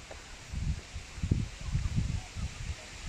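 A cool breeze blows through trees in a park on a cloudy day, coming in soft, gusty rushes with low buffeting against the microphone and faint rustling.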